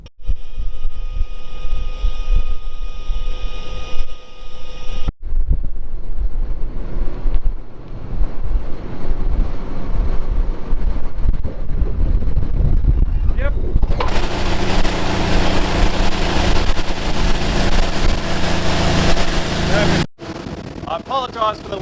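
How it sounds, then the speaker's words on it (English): Strong gusting wind buffets the microphone outdoors in a Western Australian paddock at seeding time, a loud continuous roar that swells even harsher partway through. "I apologise for the wind, it's bloody windy down here."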